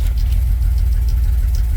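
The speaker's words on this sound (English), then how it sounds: "it's got that rough idle from a vacuum leak from hell." A 1986 Ford F truck with a worn carburetor and a vacuum leak idles roughly up close, a loud steady low rumble with an uneven throb.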